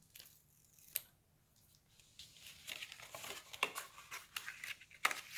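Protective liner peeled from a strip of double-sided tape while assembling a paper sliding-drawer box for an Advent calendar, heard as soft close crinkling and rustling with small sharp crackles, growing busier toward the end.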